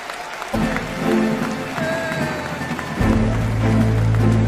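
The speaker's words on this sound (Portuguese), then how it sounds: "Um aplauso." Church audience applauding at a football-themed event, a burst of clapping rising after a moment with a low hum and some voices mixed in.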